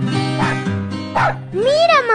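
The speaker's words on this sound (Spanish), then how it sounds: "llamó su atención un hermoso perrito blanco." A small white dog gives a few short barks and yips, close and fairly loud. The sounds come in separate bursts with gaps between them, and one rises into a whining tone near the end.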